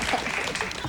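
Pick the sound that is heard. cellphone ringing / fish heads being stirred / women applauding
women applauding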